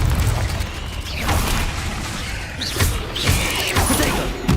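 Confringo blast spell exploding in the Hogwarts Legacy PC game: a few heavy booming bursts spaced across the moment, loud and close, over a continuous rumbling, mechanical-sounding background.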